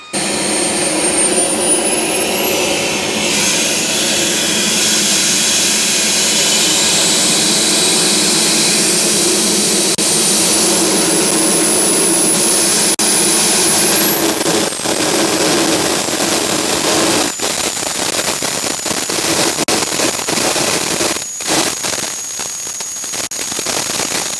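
A jet engine runs on a giant model MiG-17 aircraft, a loud continuous turbine roar with a high whine rising in pitch and shifting as the throttle changes, alone without talk.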